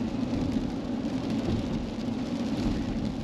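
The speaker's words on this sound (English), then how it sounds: "this is like the last like big rainstorm before, you know, spring is in full swing" A spring rainstorm pours down, a dense, steady roar of rain with a low rumbling undertone that could be distant thunder, unbroken throughout.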